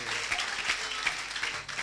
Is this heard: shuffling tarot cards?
no